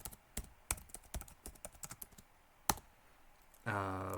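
Fingers type on a computer keyboard, a quick irregular run of close, crisp key clicks with a few louder taps, ending in a brief tonal sound.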